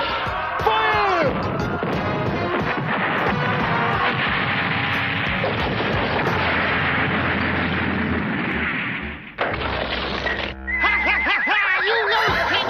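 Cannon fire in a 1988 animated cartoon: loud booming blasts and crashing impacts pile up in a dense barrage with whistling effects and music, then a brief lull and another burst.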